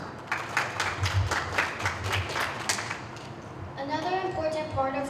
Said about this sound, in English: at a choir concert, audience etiquette is just to clap politely after the piece is finished